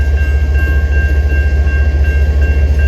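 A CN intermodal freight train rumbles past on the Wainwright subdivision, loud and close, with a steady low roar and rhythmic wheel pulsing plus a faint high squeal, as during an emergency stop.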